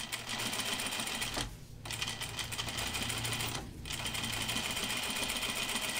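A sewing machine edge stitching a pair of jeans runs in steady, close bursts of motor hum and needle chatter, pausing briefly twice.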